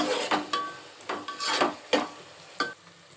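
Ginger-garlic paste fries in a pan for hotel-style biryani while a spoon stirs it. Several distinct scraping and clattering strokes sound close by over a faint sizzle, with no talking.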